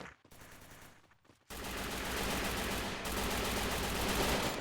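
Dense, continuous automatic gunfire in the mobile battle royale game Free Fire, starting after a brief quieter stretch and then hammering on loudly and steadily without pause.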